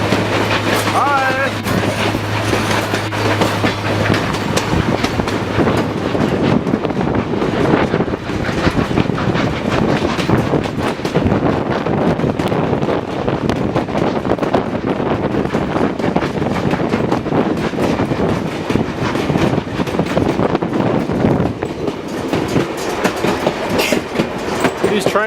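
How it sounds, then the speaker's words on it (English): Carriages well over a hundred years old ride along behind a steam train at Thirlmere, with a continuous loud rumble and rattling clickety-clack of the wheels, wind buffeting the microphone and occasional voices in the background. "These train carriages and the trains that we're riding right now has got to be well over 100 years old"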